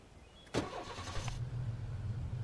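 A damaged car's engine in a video game cranks over with a short whine, catches, and settles into a steady low idle.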